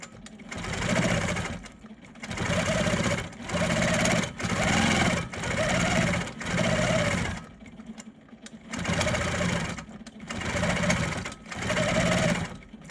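A sewing machine stitches free motion quilting in a hexagon design, running in steady bursts of rapid needle chatter separated by short pauses, loud and close.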